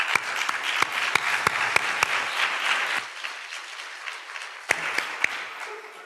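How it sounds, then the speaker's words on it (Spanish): Audience applause at a conference on technology for social inclusion: a dense burst of clapping from a seated crowd, sharp individual claps standing out, thinning after about three seconds and tapering into scattered claps. "la recibimos con un aplauso"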